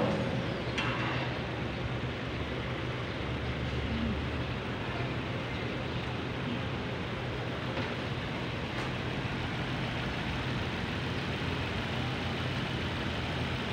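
A Suzuki car engine idles steadily while warming up for a few minutes, a continuous low, even hum with no revving, close and moderately loud.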